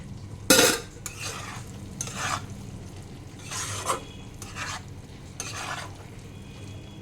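A spoonful of ghee sizzling in a pan for soyabean tadka while a spoon stirs and scrapes in repeated strokes, opening with a sharp clatter, the frying hiss rising and falling with each stroke.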